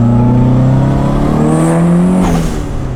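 A BMW E36 on victory laps revs loud and close, its engine note climbing and shifting smoothly, then easing off toward the end.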